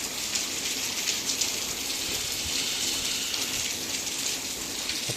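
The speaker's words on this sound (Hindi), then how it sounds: "और सॉलिड वाली बारिश हो रही है।" Heavy rain pours down at night in Mount Abu, a dense, unbroken hiss of falling water on surfaces that stays loud and steady throughout with no voices.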